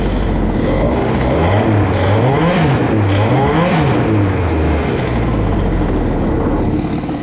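A tuned Doppler LC BOOSTed moped engine revs hard during a clutch test, loud and close, its pitch rising and falling in repeated swells before settling to a steady drone, with no talking.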